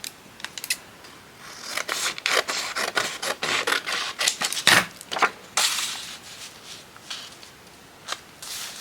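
Scissors cut paper for a journal's blank pages in a series of close, crisp snips and rustles, irregular in rhythm with short pauses between cuts.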